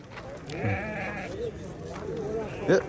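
Lambs bleat in short, wavering cries amid the noisy bustle of the Olti Ariq livestock market, with people talking nearby.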